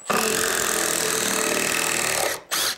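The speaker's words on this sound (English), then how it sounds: "Yes, forgot to pre-drill. Let's do that." A power drill whirs steadily through wood for a couple of seconds, stops briefly, then spins again in a short burst, close by.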